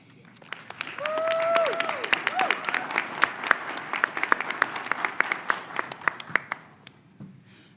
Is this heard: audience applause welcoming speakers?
yes